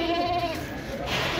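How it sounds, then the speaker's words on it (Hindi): A Somali goat at a livestock market in Jeddah gives a close, loud, wavering bleat that slides downward, over a steady din of market background noise. "ये सोमाली बकरा है, सोमाल से आता है, सोमालिया से।"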